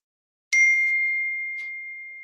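A single loud electronic ding rings out clearly alone, then holds as a steady tone that fades slowly over about two seconds.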